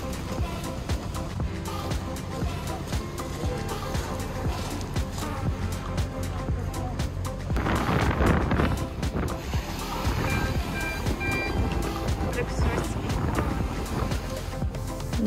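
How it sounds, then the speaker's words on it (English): Fast speedboat ride to Boracay, a continuous loud roar of engine and rushing water with splashing surges and hull slaps throughout, no talk. "then we headed for our speedboat"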